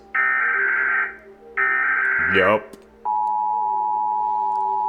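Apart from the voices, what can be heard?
American emergency alert system tone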